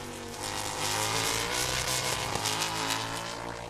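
F4 U.S. Championship race cars at VIR scream past at high revs, a loud, sustained engine wail rising in and out with a brief sharp spike as they pass close.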